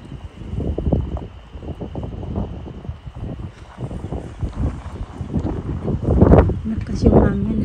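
Gusty wind buffets the microphone in rough bursts near parked cars on a street in the UK, with louder rushes near the end and faint background noise underneath.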